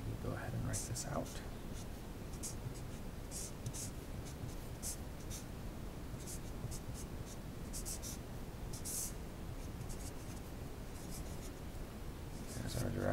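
Pen or marker writing out equations by hand for a quantum mechanics problem, a steady soft scratching with brief tapping strokes, close and continuous with faint background hiss.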